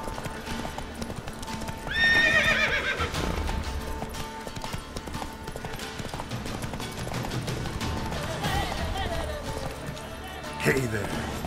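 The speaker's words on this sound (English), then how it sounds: "Run, Roach. Run, Roach, come on" Roach, a horse in The Witcher 3 video game, gallops with rapid, steady hoofbeats and gives a loud neigh early on, heard up close over game ambience with a voice briefly present.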